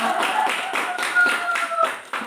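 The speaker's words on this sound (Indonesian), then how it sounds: "tepuk tangan untuk kita semua" Children clap their hands during a classroom dental health lesson, a fairly close run of uneven rhythmic claps with short pauses between bursts.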